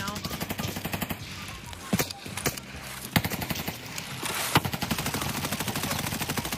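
Gunfire in a multiplayer shooter video game rattles in rapid automatic bursts, with a few heavier single shots standing out over the steady stream of fire.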